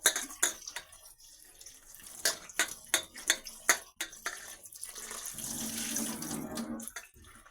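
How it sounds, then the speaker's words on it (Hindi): Mushrooms are washed under a running kitchen tap to rinse away soil, with a series of sharp splashing handling sounds followed by a steady stream of water pouring into the sink. "2 या 3 बार धोएंगे ताकि इसके अंदर जो एक्स्ट्रा मिट्टी है वो सारी निकल जाए।"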